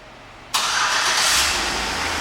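A 2009 Chevrolet Suburban LT fires up by remote start: after half a second of quiet the engine cranks and catches with a sudden loud surge, then settles into a steady close idle with no talking.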